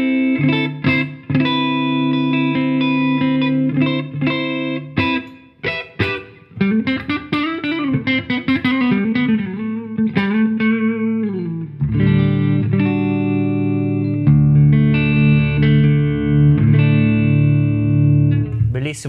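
An electric guitar played through a Tech 21 Flyrig PL-1 preamp with reverb added, heavy distorted riffs, with choppy staccato chords giving way to sustained low chugging, loud and up front with no talk.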